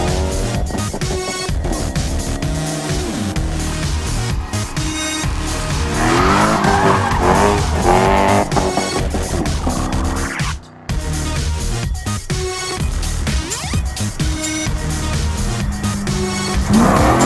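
A Mercedes CLK430 W208 drifts with loud, sustained tire squeal and skidding over engine noise, rising and falling across several slides with a brief drop in the middle.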